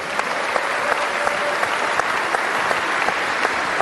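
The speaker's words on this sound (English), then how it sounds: "Give a round of applause, please" Dense, continuous audience applause fills a conference hall at Bitcoin Amsterdam, a steady wash of many hands clapping at once with no pauses.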